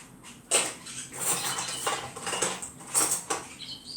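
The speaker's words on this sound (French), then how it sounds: "Alors je prends une cuillère." A spoon scoops cornstarch (maizena) from a bag or container: soft scraping and powdery patter strokes, several close, light scoops with brief pauses, no talking.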